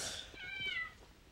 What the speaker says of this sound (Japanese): 捨て猫ですか。